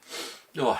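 One person sneezes indoors: a sharp breathy intake, then a short, forceful nasal burst, close and brief.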